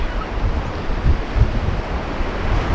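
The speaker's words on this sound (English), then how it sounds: "Absolute carnage out here. The wind can be beyond a joke." Strong wind and heavy surf at Jeffreys Bay during a huge swell make a constant loud roar of wind buffeting and crashing waves, with no voices.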